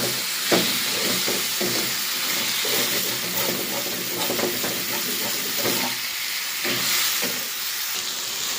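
Ingredients for crab curry fry in a pan with a steady, loud hiss and sizzle, close up, with faint stirring taps now and then and no clear talking.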